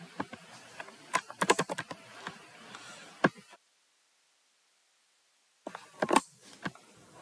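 A name typed on a computer keyboard into a web form, with close, crisp key clicks arriving in quick irregular bursts, then about two seconds of silence before another short flurry of keystrokes.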